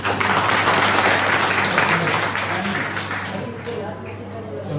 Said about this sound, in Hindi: तो एक बार ताली बजाओ बच्चे के लिए।